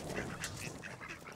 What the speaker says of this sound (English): Ducks! Ducks!